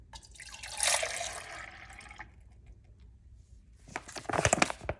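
Milk is poured into containers while making protein ice cream, two short splashing, gurgling pours separated by a quiet gap.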